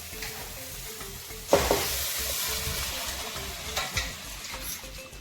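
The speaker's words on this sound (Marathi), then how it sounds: "आता आपण पूर्ण हे भाज्या आणि डाळ त्याच्यामध्ये घालून घेऊया" Vegetables and dal tipped into a hot pan for an achari-style veg dalcha burst into loud, close sizzling with a sharp splash, then steady frying crackle under brief stirring scrapes.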